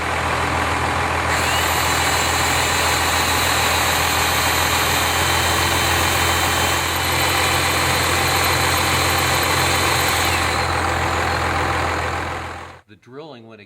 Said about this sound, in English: We'll start the engine and let it idle while we drill